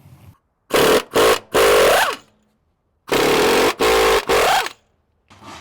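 Impact wrench or power tool loosening bolts on a Ford F53 V8 chassis differential bracket, two pairs of loud, close whirring bursts with rising pitch, separated by silence.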